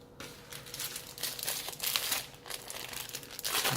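Plastic sticker packaging for a drone frame crinkles and rustles close up as it is handled, a busy run of bursts of crackle for a few seconds, with no voices.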